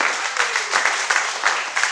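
A church congregation breaks into brisk, dense clapping with many hands at once, an even, loud patter heard up close that lasts only a couple of seconds.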